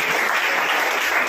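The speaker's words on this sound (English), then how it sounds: "Clapping for Sadiq Khan." Audience applauding for a student giving an English speech at a school event, steady dense clapping throughout, fairly loud and close with no talking.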